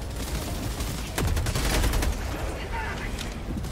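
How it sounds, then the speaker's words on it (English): Machine gun fire in a co-op action game, a dense, steady rattle of rapid shots continuing throughout, loud and close, with a player's voice talking over it. "Hit him with the machine gun"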